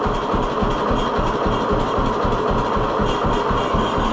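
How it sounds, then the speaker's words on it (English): A 1948 John Deere B tractor idles very low, its two-cylinder engine chugging in a steady, heavy, rapid pulse, loud and close with no voices. "Listen to how low it idles."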